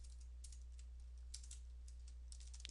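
Quick, light keystrokes on a computer keyboard come in short bursts with brief pauses, close and quiet over a steady low electrical hum.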